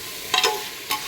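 Pumpkin pieces coated in masala stirred in a pressure cooker, two or three brief scraping strokes over a faint background hiss.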